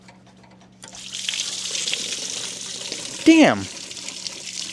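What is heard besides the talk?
water draining from loosened radiator hose clamp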